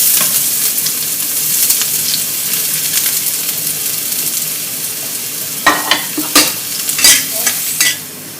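Garlic frying in hot cooking oil, a steady close sizzle with stirring, then several sharper louder spatters and scrapes toward the end.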